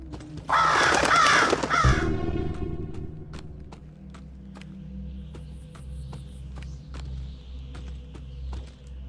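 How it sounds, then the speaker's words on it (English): Crows caw loudly in a dense burst at the start of FNAF Help Wanted gameplay, fading into a low ambient hum punctuated by sharp clicks and taps. "No, not the crows."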